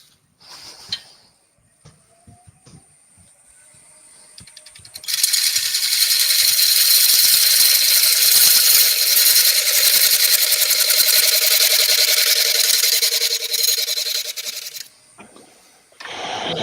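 A power tool cuts a platter in a workshop, a loud steady whine with grinding texture running for about ten seconds after a few quieter clicks and taps, then stopping abruptly.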